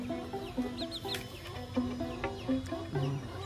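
Chickens cluck and call close by in a rural yard in the early morning, a steady chatter of short clucks with a few higher squawks and no talking.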